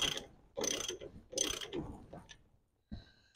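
Ratchet spinning a nut to chase threads while fitting a Torch Off Road truck leveling kit, heard as several short, loud bursts of close mechanical clicking separated by brief pauses.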